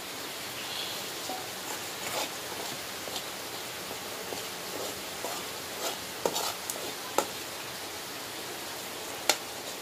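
Spiced masala paste sautéed in oil in a pan, a soft steady sizzle with scattered clicks and scrapes of stirring, faint and continuous with no talk.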